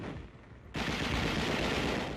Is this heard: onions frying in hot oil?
no